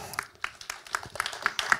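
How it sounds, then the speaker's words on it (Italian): An audience applauds as a reader is invited onto the stage at an Italian literary reading, with fairly faint, scattered clapping and individual sharp claps standing out. "Difficile applaudire col microfono in mano, ma sto applaudendo anch'io."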